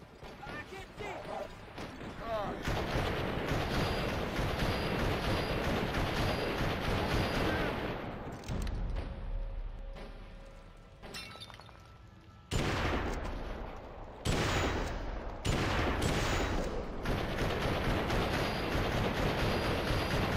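Rifle gunfire in the Western video game GUN on GameCube, loud repeated shots and bursts with game music and effects, broken by brief lulls.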